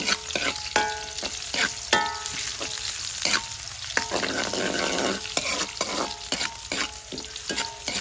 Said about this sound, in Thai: เราก็จะเอาหอมแดงลงไปเลยนะคะ